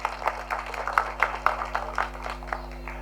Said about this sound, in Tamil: அவருக்கு நம்ம ஒரு கைத்தட்டி பாராட்டு தெரிவிச்சுக்கலாம்